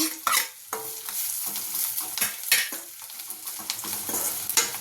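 Boiled potato being mashed and stirred into fried onions in a pan, with steady scraping strokes and a light sizzle running underneath, close and fairly loud, with no voices.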